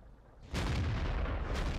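A Type 62 tank cannon in World of Tanks fires once with a sudden loud boom, followed by a second, fainter blast near the end.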